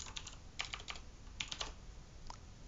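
Typing on a computer keyboard while writing code in Android Studio, a run of quick, light clacking keystrokes in short bursts, close and moderately soft, with no talking.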